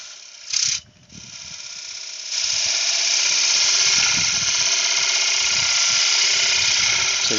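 A woodturning gouge cuts a large beech platter spinning on a lathe, making a steady, loud rasping hiss that starts as a short scrape, pauses briefly, then continues unbroken and close.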